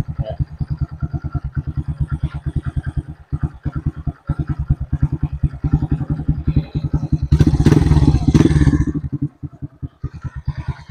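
An overhauled Honda XRM 125 motorcycle engine idles steadily at close range with an even, rapid putter. A brief louder roar comes midway before it settles back to idle.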